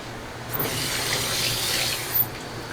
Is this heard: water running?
yes